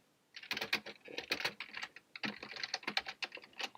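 Rapid clattering keystrokes on a computer keyboard during programming work, a steady close-up burst of taps in uneven rhythm with short pauses, no voices.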